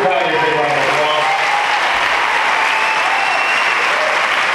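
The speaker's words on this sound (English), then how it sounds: "Connie, please give Connie a big round of applause." A crowd at an Obama political event applauds loudly and continuously, a dense, even roar of many clapping hands. A speaker's voice is faintly heard over the start.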